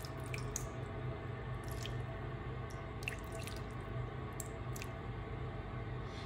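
Longganisa sausage simmers in a little water, making a steady low bubbling with scattered soft pops and wet squishes close by.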